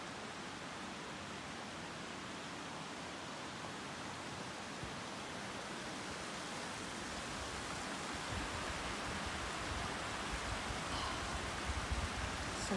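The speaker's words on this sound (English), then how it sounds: "Still hiking along the brook." Brook water flowing beside a hiking trail at Smarts Brook in the White Mountains of New Hampshire, a steady faint rushing hiss with no talk.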